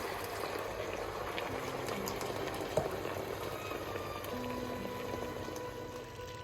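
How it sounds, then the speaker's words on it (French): White wine simmering and reducing in a pot for ossobuco, a steady soft bubbling boil with a faint clink partway through, no talking. "je vais laisser réduire le vin"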